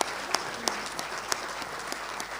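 Audience applause at a Hindi kavi sammelan poetry gathering, a steady dense patter of many hands clapping with a few sharper claps standing out, filling the whole moment.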